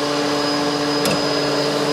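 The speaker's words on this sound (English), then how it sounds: "When the oil level reaches to the setting level, the upper oil level switch, the oil pump will start automatically." Oil pump of a TYA series vacuum hydraulic lube oil purifier runs in a loud, steady mechanical drone with tonal whine, a brief click partway through, no talk.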